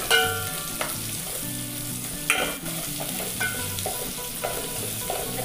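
Onions frying for pasta in a pan, a close steady sizzle with intermittent scraping stirs and clinks of a utensil against the pan.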